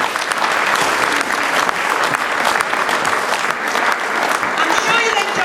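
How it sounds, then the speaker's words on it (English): Sustained applause from an audience at a talk on Sylvia Pankhurst, a dense, steady wash of clapping that holds evenly from start to finish, with some crowd murmur mixed in. "can we have a big round of applause,"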